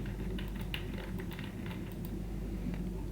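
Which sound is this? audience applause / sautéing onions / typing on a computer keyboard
typing on a computer keyboard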